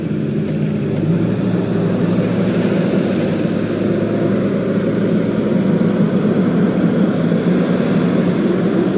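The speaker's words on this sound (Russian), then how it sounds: "Трактор что-то катается." A tractor drives around near a seaside beach, its engine giving a steady, loud low rumble that drones on without a break, with no talk over it.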